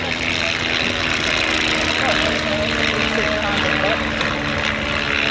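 A restored vintage light aircraft with very light controls and low wing loading drones steadily nearby at a Little Gransden air and car show, its propeller engine a constant broadband hum throughout.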